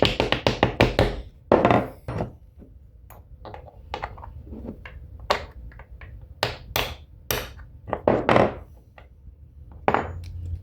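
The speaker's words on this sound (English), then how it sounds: "you just push that ejector in there on that compression pin or knock your pin back in" A pin is knocked back into a TEC bolt-ejector tool on its compression pin, giving a series of sharp, irregular metallic taps and knocks up close with quiet gaps between them.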